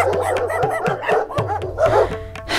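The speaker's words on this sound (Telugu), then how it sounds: "పద్దు. నీకు ఆల్రెడీ చెప్పాను ఆ కుక్కలు మొరిగితే నేను డోర్ తీయనని." Dogs bark at a house door, with repeated close, loud barks and yips over a steady low indoor hum. No one speaks.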